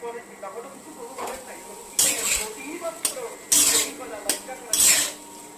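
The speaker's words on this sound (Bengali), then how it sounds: "বাটার দেওয়ার পরে টুকরো করে রাখা পনির দিয়ে দিন। হাফ চামচের মতো লবণ দিয়ে ভালো করে ফ্রাই করে নিন।" Paneer pieces frying in butter in a kadai, sharp metallic clanks of a utensil against the pan over a soft sizzle, with a voice speaking throughout.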